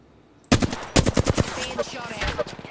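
Bursts of rapid automatic gunfire in the battle royale shooter Apex Legends crack out in quick volleys after a brief quiet start, loud and close, followed by scattered further shots.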